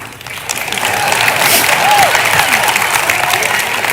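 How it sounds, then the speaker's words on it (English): An audience claps in a broad, sustained wash of applause during a Christian talk on dating rules, rising within the first half second and holding steady at a fairly loud level for the rest of the clip. "why are they clapping?"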